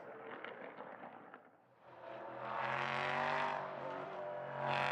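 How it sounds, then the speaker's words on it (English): A prototype race car at Mugello revs low, its engine droning and then rising in pitch as it runs fairly close, loud and steady with no talk over it. "It certainly sounded like it was revving lower then"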